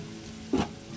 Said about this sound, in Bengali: দেখলাম পেঁয়াজটা ভাজা ভাজা হয়ে গেছে, আমি রসুন বাটাটা দিয়ে দিলাম